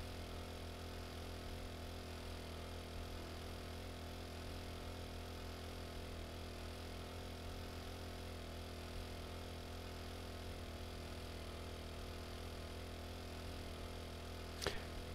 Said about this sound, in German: Das ist ein Traktor.